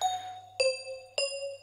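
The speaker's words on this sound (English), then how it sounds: "Ah, crystal bells. So it's in Nexus under bells." A crystal bells synth preset from the Nexus plugin rings out three times at an even pace, each a bright, shimmering chime with a sharp attack that hangs and decays before the next strike. No voices.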